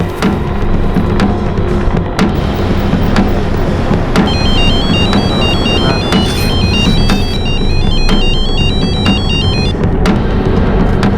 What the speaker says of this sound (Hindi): आप जुबैर भाई को फोन लगाइए अभी।